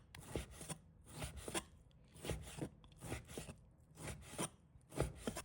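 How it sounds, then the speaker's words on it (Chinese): Knife chopping a small piece of pork belly into small pieces on a board, a steady series of close, crisp thuds in quick bursts with brief pauses between them. "再准备1小块五花肉，把它切成小块"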